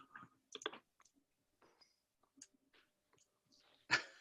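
A cat walks across a computer keyboard, producing scattered, irregular key clicks in small bursts with pauses between, ending in a louder clatter of several keys at once; nobody speaks.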